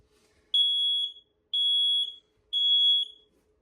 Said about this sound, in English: You do have a smoke alarm. Gives you that annoying little sound again.